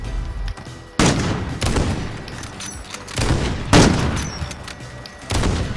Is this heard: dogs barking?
no